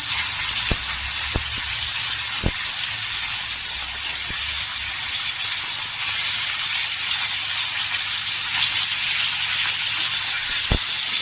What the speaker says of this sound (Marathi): इथे पनीर टाकून घ्यायचं छान असं फ्राय करायचं